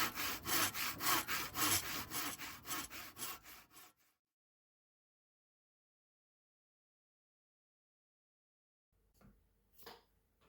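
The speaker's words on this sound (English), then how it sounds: "all I need to do is file other straight area to the new shaft" Hand filing a flat onto a metal gearbox output shaft for a precision screwdriver repair, with a burst of rhythmic rasping strokes up front, then silence, then a few faint scrapes near the end.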